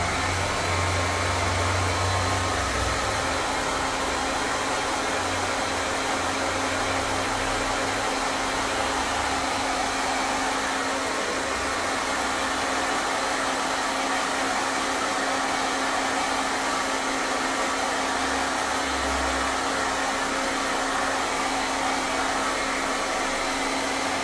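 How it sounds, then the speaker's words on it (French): A hair dryer runs continuously at an art workshop, a steady close whir with a fixed hum holding even volume throughout, while faint low rumbles drift in and out underneath. "Sèche-cheveux."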